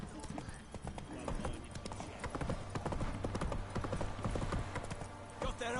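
Roach, a horse in The Witcher 3, gallops with rapid, rhythmic hoofbeats close by, while voices talk over the running.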